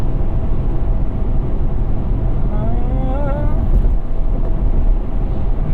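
A 2021 Chevrolet Colorado ZR2 truck cruises uphill in 6th of 8 gears at about 70 mph and 2,700 RPM in tow mode, a loud steady engine and road drone filling the cabin, with a voice briefly speaking over it.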